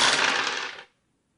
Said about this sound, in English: So we'll roll these 5 dice again.